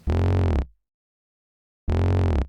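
Two short, thick triangle-wave synth bass notes, each about half a second long and separated by a gap of silence, with a warm, filtered, buzzy low tone.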